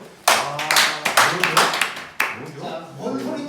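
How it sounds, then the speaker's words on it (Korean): A classroom of students claps together in brief uneven bursts of several sharp claps, with voices talking over and between them. "박수!"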